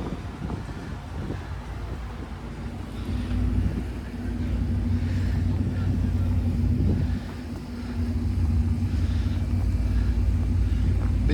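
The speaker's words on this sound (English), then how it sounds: "1963 Chevy2 Nova, 302 Gene Fulton engine." A 1963 Chevy II Nova gasser with a 302 Gene Fulton engine idles nearby with a steady low rumble that swells briefly around the middle, with a little wind noise on the microphone.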